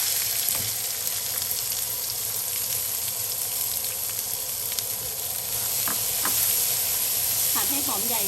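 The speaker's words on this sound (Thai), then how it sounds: "จากนั้นเราจะใส่หอมใหญ่หั่นเต๋าลงไปค่ะ" Steady frying sizzle of diced onion in hot oil, a continuous bright hiss with occasional crackles, close and fairly loud throughout, with a voice briefly near the end.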